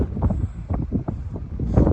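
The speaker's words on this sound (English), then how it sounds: "Probably you're hearing wind in my ears" Wind buffets the microphone on a wooded mountainside stretch of the Appalachian Trail near Franconia Notch, a close, low rumbling gust that surges and fades in uneven waves.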